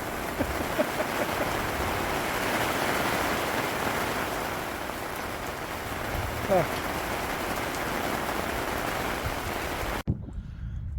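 Steady rain patters and drips outdoors in the Western Australian outback near Kookynie during a prospecting trip, a continuous close hiss of drops on surfaces that cuts off abruptly near the end.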